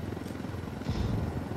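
A helicopter in the video game Ghost Recon Wildlands gives off a steady, low, broadband rotor rumble that swells slightly partway through, heard alone and moderately loud.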